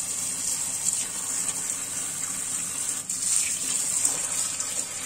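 Steady rush of running water splashing as black olives are rinsed, with faint shuffling and movement underneath, fairly close and continuous, no talking.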